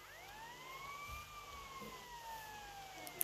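Police car siren in the video game GTA Vice City, a steady rising and falling wail that carries on throughout against a low background hum, with a small click near the end.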